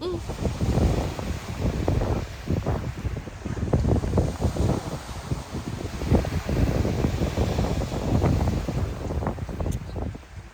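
Sea waves wash along the shore beside a seaside cafe in Montenegro, heard under heavy wind buffeting the microphone, with rolling bursts of rumble throughout.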